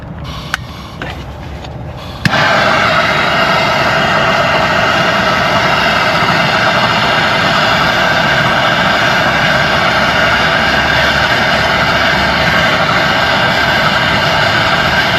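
MAP gas torch heating a strut nut on a Dodge Journey, lighting with a few clicks then a loud, steady roaring hiss held close and unbroken for many seconds.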